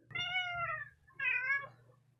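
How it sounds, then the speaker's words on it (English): A cat meows twice, soft and close, with a short pause between the two calls and a low steady hum underneath. "Say hi to the kitty cat"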